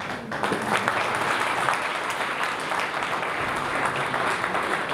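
Audience applause at a Christmas carol concert in Dărmănești, a steady wash of clapping at moderate level, continuous and without talk.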